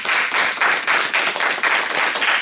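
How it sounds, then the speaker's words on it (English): An audience at a home business event gives a round of applause, dense steady clapping at close range. "I want to give them a round of applause."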